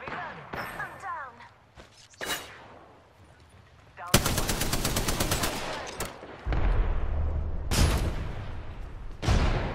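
Gunfire in the battle royale video game Apex Legends comes as dense, loud bursts of rapid automatic shots with single shots scattered between them, and a game character's voice speaks over the shooting.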